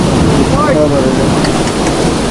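Rough sea water churning around a boat, a loud continuous wash of surf and wind buffeting the microphone, with a voice faintly audible underneath.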